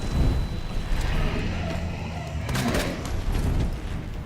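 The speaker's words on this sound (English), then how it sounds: "Let me maybe flashbang him." A flashbang grenade goes off in the Resident Evil 2 video game, a loud broadband burst of blast noise and roar that stays dense for several seconds, with a sharp flare partway through.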